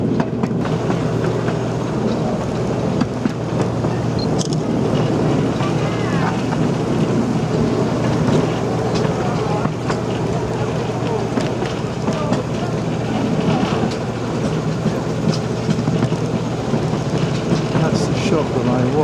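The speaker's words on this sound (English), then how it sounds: "At the moment we're on a diesel train" Diesel train running on the Poole Park Children's Railway, a steady rumbling ride with rhythmic rail clatter heard from on board, with faint voices now and then.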